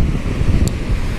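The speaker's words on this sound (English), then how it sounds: "I'm gonna have to button up here in a minute if this wind persists." Cold wind gusts across an open-water fishing spot on a grey February day, roaring hard and close against the microphone in an unbroken rumble with no speech.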